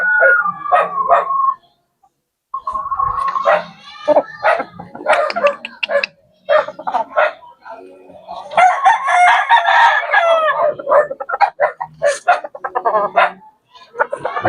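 Fighting roosters on a small farm in the Philippines, loud nearby crowing in repeated calls with clucks and a dog nearby, someone talking between them.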